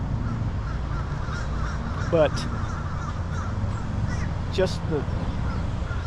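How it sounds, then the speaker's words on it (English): Crows caw a few times at a distance in Riverfront Park, Little Rock, outdoors among blooming trees, two short bursts standing out over steady low background noise and a person speaking. "the crows are going crazy."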